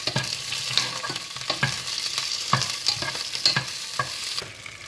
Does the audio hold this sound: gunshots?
no